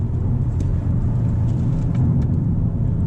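A Hyundai Elantra N with a six-speed manual and turbo runs in third gear on a tightening road, a steady low engine and road rumble heard from inside the cabin with no talk.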